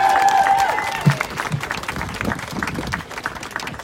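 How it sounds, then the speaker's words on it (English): Crowd applause at an outdoor protest rally, a steady wash of clapping from many people that fades gradually, with a brief tone and faint voices near the start. "So we can give her a big round of applause especially"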